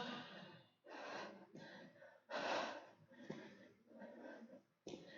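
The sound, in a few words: heavy breathing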